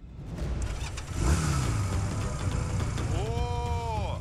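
A customized motorcycle with neon-lit wheel coming to life: engine cranks and catches, then a steady mid-pitched idle with rising revs, a brief voice-like tone near the start, and a smooth whining sweep late in the clip, fairly loud and close.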